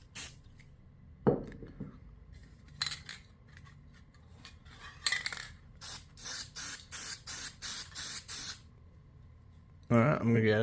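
Fabric paint sprayed onto a car roof liner in a series of short, sharp hissing bursts in quick rhythm, preceded by a single knock and ending in a longer spray blast.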